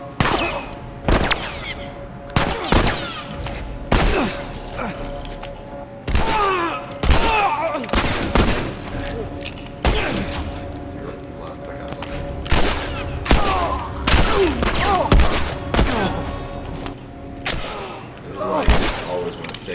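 Repeated gunfire bursts in the video game The Last of Us during a combat encounter, sharp loud shots scattered in clusters across the stretch amid ongoing game ambience.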